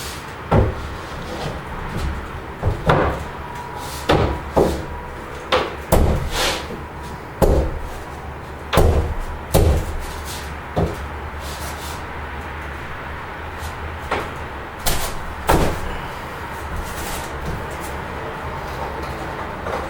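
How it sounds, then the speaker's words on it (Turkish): Laminate ceiling panels being fitted into place, with repeated sharp knocks and taps at an uneven rhythm, fairly close and loud, pausing briefly between bursts. "Öncelikle almış olduğunuz bir adet laminantımızı güzel bir şekilde yerine yerleştiriyoruz."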